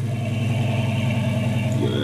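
A twin-turbo Lamborghini Gallardo in Roblox Driving Empire holds a steady, droning engine idle with a mid-pitched hum and a slight rise at the very end, loud and close.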